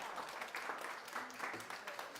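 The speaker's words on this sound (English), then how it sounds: "Round of applause for Michelle." An audience applauds for a volunteer picked from the crowd at a wellness presentation, a short burst of dense clapping that fills the room for a couple of seconds.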